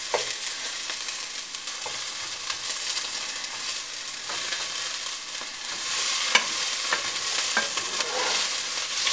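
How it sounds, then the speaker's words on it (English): Bell peppers and egg whites sizzle steadily in a skillet while being stirred and pushed around, with continuous frying crackle and occasional scraping taps, close and moderately loud, no talking. "what I like to do now is I just like to put all the peppers on one side"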